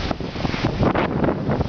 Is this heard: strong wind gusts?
yes